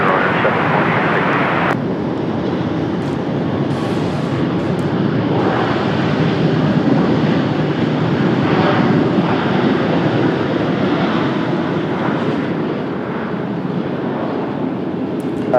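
Jet airliner taking off from runway 30 at Washington Dulles on a cloudy day, a loud, steady broadband engine roar that holds for the whole stretch with a faint distant voice beneath it.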